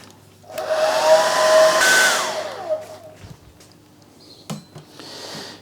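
A hair dryer blows over a watercolor painting of a waterfall, rising to a loud close roar for a few seconds, then cutting off, followed by faint handling knocks.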